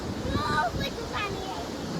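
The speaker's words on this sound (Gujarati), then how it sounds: "કેટલું બધું પાણી જાય છે" A large volume of flowing water gives a steady broadband rush, mixed with wind buffeting the microphone and a few brief voice-like tones over it.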